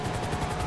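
Helicopter in a racing video game, a steady rhythmic rotor chop at moderate loudness for a brief moment.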